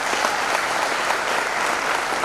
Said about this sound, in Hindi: एक बार जोरदार तालियां आप लोगों के लिए भी।